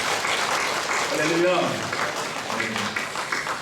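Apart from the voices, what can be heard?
congregation applause in church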